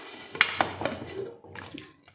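A pressure cooker holding milkfish is opened after its steam is released, with a couple of sharp metallic clanks of the lid followed by softer clinks and rustles, close and fairly quiet.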